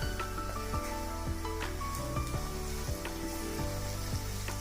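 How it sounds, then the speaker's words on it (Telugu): Ginger garlic paste fries in a pan for a bean and tomato curry, a soft sizzle under a steady tonal hum, with occasional clicks of stirring and no voices. "కలిపి పచ్చి వాసన పోయే వరకు వేగనిద్దాం"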